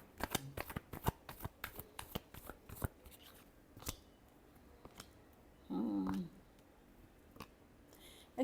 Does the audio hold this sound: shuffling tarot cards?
yes